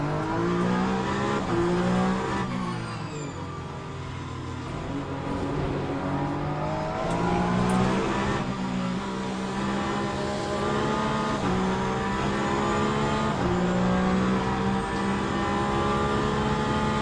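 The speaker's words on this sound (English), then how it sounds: "So that tyre sound was good" A race car in the sim racing game Le Mans Ultimate runs at high revs through gear changes, with a tyre squealing and scrubbing under the engine noise. The sound is close and loud and lasts throughout.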